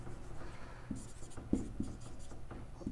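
Marker or chalk strokes on a classroom board during a physics lesson, a few soft scratchy taps and squeaks spread over a quiet room with faint background hum.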